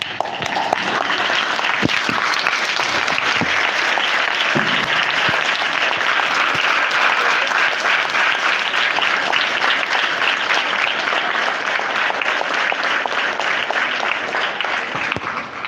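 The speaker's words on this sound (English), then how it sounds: "I request you all to give a standing clap to all those marvelous teachers." An audience gives a standing round of applause to teachers at an event about global competition and study abroad, with dense, sustained clapping that fills the whole stretch at steady loudness.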